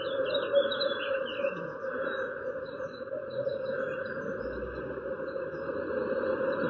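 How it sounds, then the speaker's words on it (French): Birds chirp and sing outdoors in a continuous chorus, with small tweets layered over a steady hum of insects or crickets, fairly close and evenly loud. "Tu vois la nature, t'entends les oiseaux."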